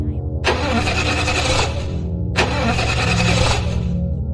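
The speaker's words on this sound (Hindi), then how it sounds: "इंजन ने एक अजीब सी घिसटती हुई आवाज की, लेकिन वो स्टार्ट नहीं हुआ।" A car engine with a locked-up engine cranks twice in long, grinding bursts, each about a second long, with a short pause between, but never catches and runs.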